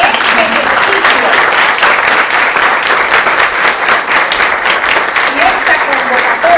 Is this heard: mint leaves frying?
no